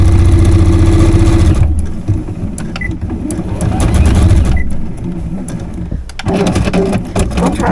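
A sewing machine stitches a stuffed fox toy in loud, rapid bursts of mechanical whirring that stop and restart several times, with short pauses and small clicks between runs.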